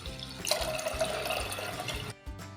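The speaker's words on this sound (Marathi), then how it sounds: "मी त्याच मापाने मी दोन पेले पाणी घालणार आहे" Water is poured from a cup into washed rice in a pot before pressure cooking, a steady close splashing trickle that runs for about two seconds and then cuts off.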